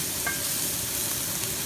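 Grilled cheese sandwiches fry on a camp griddle outdoors in the High Sierra, giving a steady close sizzle with a faint crackle and no voices.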